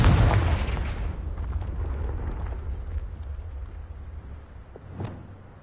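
A Confringo spell explosion in Hogwarts Legacy starts with a heavy booming burst that rumbles and fades, followed by smaller scattered crackles and a second lighter impact later.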